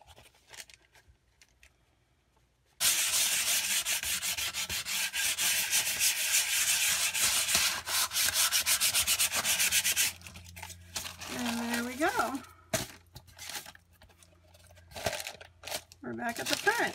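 Brisk, steady rubbing of sandpaper on a composition notebook being decorated runs for several seconds, close and loud, then stops and a voice talks over a few scattered handling sounds.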